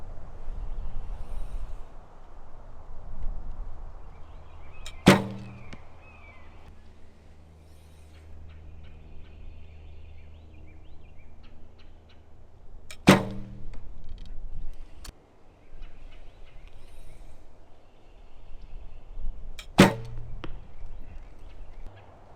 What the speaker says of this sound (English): I didn't feel much in the way of difference in the way the bow reacted after letting go of the string